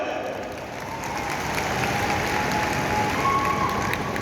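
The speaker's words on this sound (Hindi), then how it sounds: "के लिए जोरदार ताली।" Loud applause from a crowd at a stadium event in Delhi, a dense, sustained clapping that swells slightly after the first second and continues steadily, near and full, with no clear talk over it.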